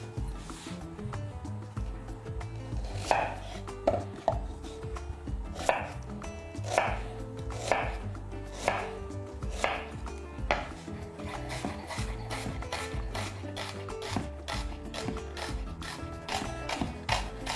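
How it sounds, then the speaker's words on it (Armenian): A knife chops two small onions finely on a wooden board, rapid close knocks in uneven bursts with short pauses, ringing over a low background hum. "Վերցնում ենք 2 փոքր գլուխ սոխ։ Կտրատում ենք մանր։"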